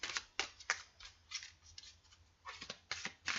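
Soft, crisp riffling bursts of cards being shuffled, repeated in quick bunches with short pauses, close and quiet.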